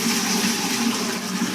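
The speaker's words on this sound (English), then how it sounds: "So what it's gonna do now is drain the machine" Steady, loud rushing of water draining from a Champion PRO Series rack/conveyor commercial dishwasher, a continuous full wash of noise without speech.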